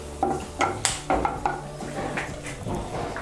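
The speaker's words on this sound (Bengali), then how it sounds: "দিয়ে একটু নাড়াচাড়া করে নিয়ে এর মধ্যে আমি পেঁয়াজ বাটাটা দিয়ে দেব" Onion paste goes into a pan of hot oil with cardamom, cinnamon and cloves for doi katla, with a series of metallic spoon-and-pan clanks and scrapes over a faint sizzle.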